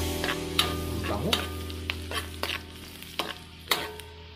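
Onions and garlic sauté in a pan with a steady sizzle under repeated scraping and clinking stirs from a utensil, close and moderately loud.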